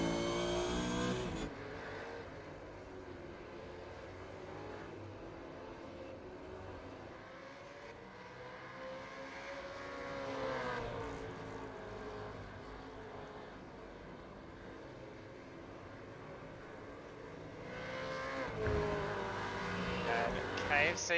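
A Supercars race car engine drones through an iRacing race at Winton Motor Raceway, a steady loud revving note that swells and shifts with throttle and passing traffic, with commentators talking over it.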